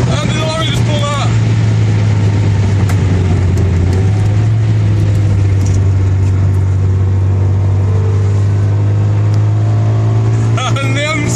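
A BMW M5 and M6 race at high speed on a German autobahn with a heavy, loud, sustained engine drone and rushing wind, while people talk over it at the start and end.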